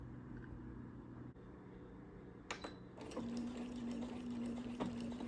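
Sewing machine stitching fabric, a steady mechanical hum and whir running throughout, rising to a faster, more sustained drone partway through, fairly close and quiet, with no talking.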